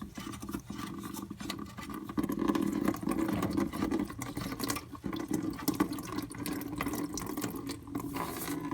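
Fluid trickling and splashing from the drain plug of a 1971 Datsun 240Z, a faint, steady liquid pour with small irregular drips and clanks, close by and without talk.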